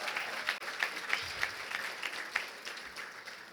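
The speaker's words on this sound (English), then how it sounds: "Give her a round of applause," A luncheon gala audience applauds Karen Brown with sustained, even clapping from a crowd heard at a slight distance, with no speech over it.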